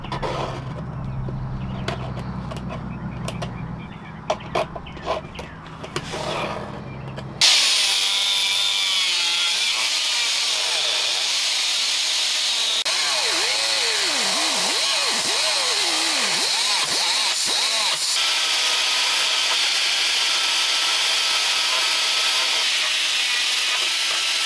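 After a few seconds of knocking and handling, a power saw starts and runs continuously, cutting through a boat hull with a harsh, steady whine and occasional shifts in pitch.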